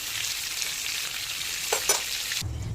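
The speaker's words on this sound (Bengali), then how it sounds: "কম করেই হালকা করে সবকটা চিংড়ি ভেজে নেবো" Prawns fry lightly in hot oil in a pan, giving a steady soft sizzle with a couple of brief stirring clinks, then the sizzle cuts off.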